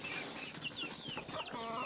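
A native desi hen clucks close by in a farm setting, giving a few short, bright clucks and chirpy calls in quick succession with faint background noise.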